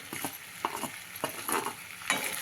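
Paneer cubes being stir-fried with soft potatoes and cooked tomatoes in a pan, with a low sizzle under intermittent scraping strokes of a spatula, close and moderately loud, no talking.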